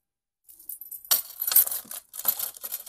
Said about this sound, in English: I have my keys here.